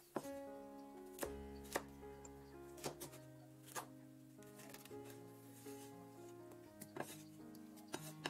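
Cucumber chopped into small pieces with a cleaver on a board, crisp sharp knife strikes at an uneven pace, roughly a dozen chops, close and clear with no talk.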